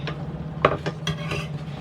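A few metallic clinks and scrapes of a ladle against a pot, with a low steady hum underneath in a quiet kitchen.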